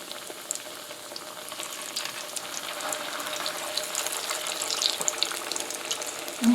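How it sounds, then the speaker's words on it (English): A salmon patty browning in a hot pan gives off a steady, bubbly sizzle that holds throughout with small pops, close by and moderately loud, with no talking. "I'm going to put my salmon down into the pan and just let it brown about 3 minutes on one side"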